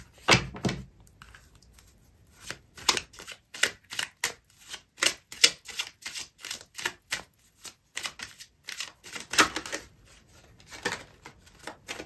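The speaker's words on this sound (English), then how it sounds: "I'm going to pull out another card for you" Tarot cards shuffled and drawn for a reading, a long run of sharp rapid card slaps and riffles in an irregular rhythm, close up and unaccompanied by speech.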